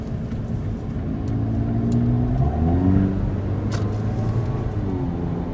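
A Mazda Skyactiv engine with a short ram air intake revs up and accelerates, rising in pitch with a deep rumbling tone, then eases off to a steady drone, close and loud.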